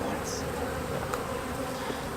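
Honeybees swarm around an open beehive during a spring inspection, a steady, dense buzz that is close and continuous throughout.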